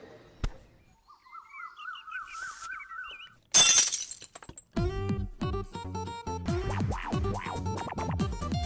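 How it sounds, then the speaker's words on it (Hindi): A glass tumbler smashes with a sudden loud crash and bright shattering burst, set amid a television comedy scene with whistling tones before and music playing after. "मेरे कांच का ग्लास तोड़ दिया"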